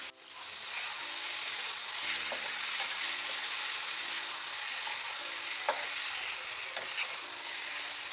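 Broad beans fry with gongura leaves in a hot pan, giving a continuous, fairly quiet sizzle and hiss with an occasional small stir or clink, and no voices.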